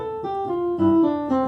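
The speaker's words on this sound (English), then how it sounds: "the country style left hand alternates between roots and fifths of whatever chord you're on" Piano playing a country-style left-hand pattern that alternates chord roots and fifths, with steady sustained tones and bass notes shifting in a bouncing rhythm, close and clear with no voices.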